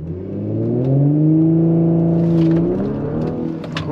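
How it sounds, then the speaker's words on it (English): A turbocharged car launches hard for a quarter-mile run with traction control off, its engine revving loudly and rising in pitch close by before easing off. "when I launch my car, cars in dynamic, cars in sport, traction control all the way off"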